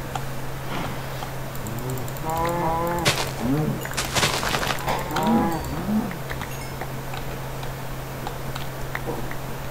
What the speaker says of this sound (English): I just want to kill all these cows, though.